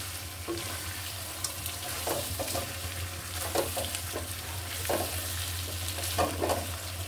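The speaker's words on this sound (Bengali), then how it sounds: "শুকিয়ে গিয়ে তেল দিয়ে যখন কষাবেন মাংসটা একটু ফুটে উঠবে, শব্দ হবে" Meat sizzles in oil as it is stir-fried in a pan, a steady crackle with scraping stirs at irregular intervals and a low hum beneath.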